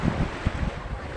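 Wind gusting across open sea off Quezon as heard aboard a small fishing boat, a steady rushing roar with brief low buffets against the microphone, no voices.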